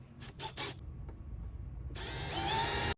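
A power drill whirs loudly and steadily into a 2025 Peterbilt 589 truck panel after a few short rasping scrapes, then stops abruptly.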